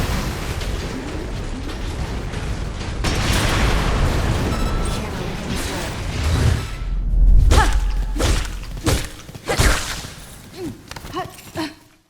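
Missile barrages and explosions from the Armored Core video game: a dense rumbling roar gives way to a run of heavy thuds, booms and whooshing launches, loud and close.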